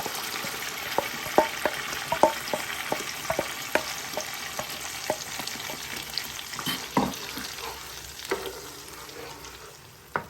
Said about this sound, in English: So it's time to add all the tomatoes, pepper, and onions.